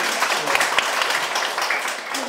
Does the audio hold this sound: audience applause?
yes